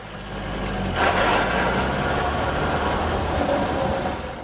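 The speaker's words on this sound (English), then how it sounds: "Some customers have asked about a mechanical buzz or rattle noise coming from underneath the car." A continuous low mechanical driveline buzz and rattle rumbles from underneath a moving 2003 Corvette, steady and fairly loud with broadband road noise.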